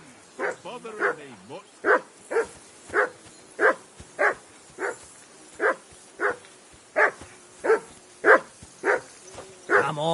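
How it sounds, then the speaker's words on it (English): A dog barks in the medieval open-world game Kingdom Come Deliverance 2, sharp evenly spaced barks repeating steadily about once a second at a camp on a riverbank, with a voice speaking briefly at the start. "Whistle at that mutt of yours to stop barking!"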